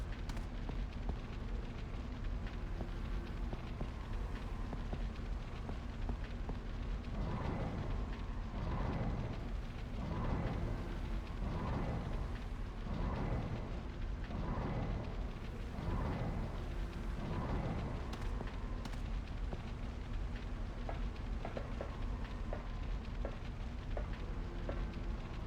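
Fire crackles and roars in Resident Evil Code Veronica, a steady dense rumble with a series of rhythmic bursting pulses in the middle stretch, loud and continuous with no voices.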